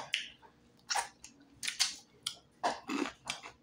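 Close, crisp crunching of someone chewing deep-fried turtle, with repeated loud bites and munches in an uneven rhythm and no talking.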